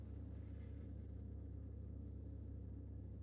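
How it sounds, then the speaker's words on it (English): A Mustang Mach-E's battery cooling pumps run while the car charges at a high state of charge, producing a faint, steady low hum and rumble with no pauses, heard alone without talk. "I can definitely hear the pumps on the car cooling the battery as it's getting to a higher state of charge."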